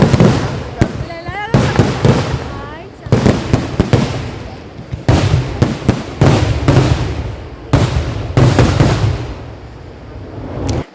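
Loud fireworks crackle and bang in rapid bursts and clusters at an Ayyappan Vilakku temple festival, some whistling, with people talking and calling out in between.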